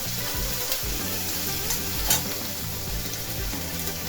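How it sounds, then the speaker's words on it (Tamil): Onions and green chillies sauté in a pan, a steady close sizzle with soft stirring scrapes and occasional crackles, no voices. "இப்போ 4 பச்சை மிளகா போட்டுடலாம். நீ கொஞ்சம் நேரம் நல்லா வதங்கட்டும் வெங்காயம்."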